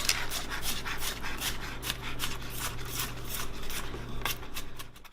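Knife roughly chopping peeled fresh garlic on a board, a steady run of quick close rasping knocks and scrapes with a low hum underneath.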